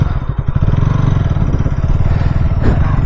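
KTM Duke 160 motorcycle engine running nearby, a rapid steady putter of firing pulses with slight clatter, holding an even idle-like rhythm throughout.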